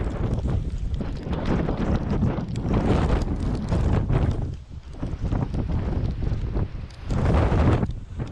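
A ferocious windstorm buffets the microphone during an outdoor airsoft battle with a Tokyo Marui MWS gas blowback rifle, loud roaring gusts that rise and fall with brief lulls, with no voices.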